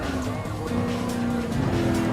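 Sauber Mercedes C9 Group C race car in Gran Turismo Sport, its engine holding a steady, loud buzzing drone close by, with a faint tire squeal edging through.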